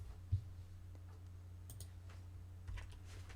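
A single faint key click from a computer keyboard as Ctrl and 1 are pressed while working in a spreadsheet, with a softer tap later in an otherwise quiet room.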